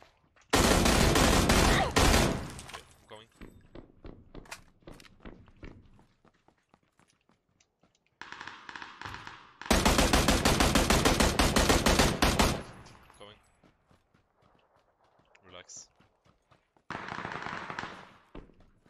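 Loud, close gunfire in the video game PUBG: several bursts of rapid automatic shots, the longest around 10 to 12.5 seconds, separated by quieter gaps with scattered single shots and a few softer distant bursts.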